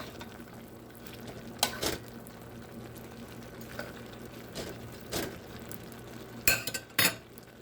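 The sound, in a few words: stirring pansit noodles in a pot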